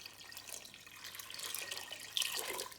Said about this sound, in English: you're gonna fill it up with water until all the potatoes are covered with water